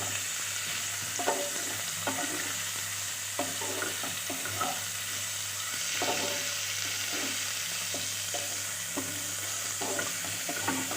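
Chicken frying in a pan gives a steady, moderately loud sizzle with a low hum underneath, while a spatula scrapes and taps against the pan at irregular intervals; no talking.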